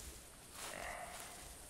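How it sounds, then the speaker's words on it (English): A mule deer buck in theHunter hunting game lets out a single low, rough grunting call around the middle of the moment, fairly faint against soft wilderness ambience, with no speech. "and this is the sound of a male or a buck."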